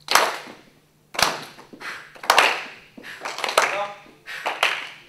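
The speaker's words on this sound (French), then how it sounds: "on applaudit." Loud, close hand claps land in uneven bursts, several with a ringing decay, mixed with voiced sounds.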